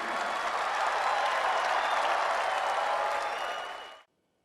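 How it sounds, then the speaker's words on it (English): A live audience at a Lyconet online business event bursts into sustained, loud applause and crowd noise, holding steady for about four seconds before cutting off abruptly into silence. "start clapping right quick"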